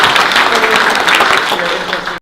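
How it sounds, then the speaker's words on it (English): Applause from an audience at a data pitching event, a dense burst of clapping filling the short moment at steady loudness with some crowd murmur mixed in. "Round of applause, please."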